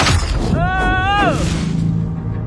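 A catapult in Bloons Tower Defense 6 launches a burning balloon, heard as a rising and falling whistling tone over a deep boom and rumble, loud and close, with talk around it.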